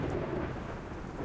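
Thunderstorm in the horror game Don't Play This, heard as a loud, dense, continuous rumble of thunder over steady rain.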